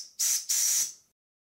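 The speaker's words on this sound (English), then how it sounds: "These Mamod steam whistles blow a bit better on steam." A Mamod model steam whistle is blown with compressed air instead of steam, giving two short, dry, hissy shrill toots close up, the second longer, then silence.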